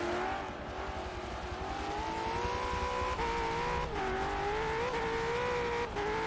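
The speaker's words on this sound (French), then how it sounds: "Le freinage derrière." V8 Supercars race cars at Road Atlanta in a racing game, loud continuous engine roar with pitch dips as they brake for a corner, close and steady, no talk.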